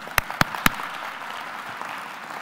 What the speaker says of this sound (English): I'm going to clap you